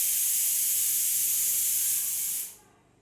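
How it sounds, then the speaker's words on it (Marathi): Steady, loud fizzing hiss of Eno fruit salt as water is poured over it while making rava dhokla, running continuously for over two seconds before cutting off abruptly into near silence. "इनोवर थोडंसं पाणी टाकून घ्यायचं आहे."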